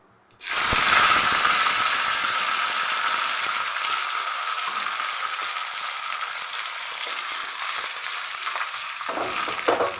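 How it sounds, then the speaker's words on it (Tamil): Mustard seeds, cumin, curry leaves and chillies hit hot oil and burst into a loud, steady sizzle that holds for several seconds with faint stirring scrapes, tempering for a Tirunelveli-style thanneer paruppu kuzhambu. "கடுகு நல்லா பொரிஞ்சிருக்கு கொஞ்சமாக சீரகம் போட்டுக்கலாம் உருகத்து கருவேப்பிலும் ரெண்டு மிளகாய் எடுத்து வச்சு தரேன் அதையும் போட்டுக்கலாம்"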